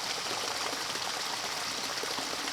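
A river runs through a snowy landscape near a waterfall, giving a steady, close, hissing rush of water that never lets up.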